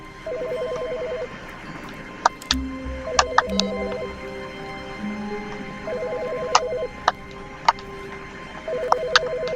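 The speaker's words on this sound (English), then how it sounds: "Oh, the phone's ringing!" An in-game telephone ringing in The Stanley Parable, repeating bursts of electronic ring tones in a regular pattern with sharp clicks and ticks in between, clear and moderately loud with no talking.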